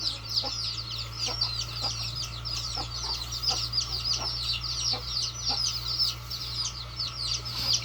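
A village free-range hen clucking softly and repeatedly beside nine newly hatched chicks, whose high peeping chirps run continuously over a low steady hum, close by.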